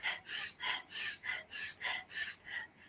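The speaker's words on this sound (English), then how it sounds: "Pumping it in through your nose and letting it go through your mouth." Rhythmic breathing exercise, air drawn in through the nose and released through the mouth: about eight close, soft breath cycles in steady succession, alone without talk.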